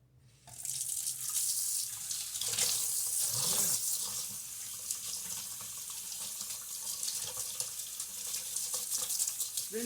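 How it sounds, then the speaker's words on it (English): Cold tap water runs steadily into a sink over a Dungeness crab being rinsed, a continuous splashing hiss that starts abruptly and stays loud and close throughout, with brief shifts as the stream hits the shell. "now we're going to rinse this under cold water."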